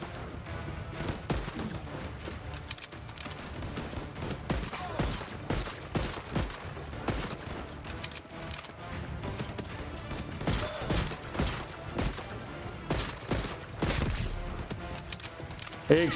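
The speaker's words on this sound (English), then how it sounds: "Oh, that's a shootout." Shootout in the Voidtrain game: dense bursts of rapid gunfire and sharp cracks clatter continuously at moderate level, with a voice briefly mixed in.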